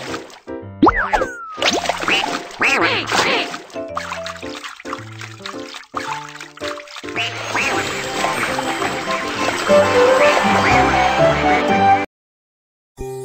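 Cartoon duckling quacks and playful boings from a children's coloring game, bright synthesized effects with short quacking calls over light watery trickling sounds and cheerful game music, ending in a brief silence.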